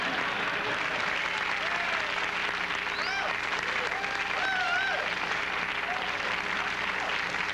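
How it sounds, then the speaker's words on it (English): Studio audience applause during a late-night talk show, a steady broadband wash of clapping that holds at even loudness throughout, with faint voices threaded through it. "Little applause never hurt."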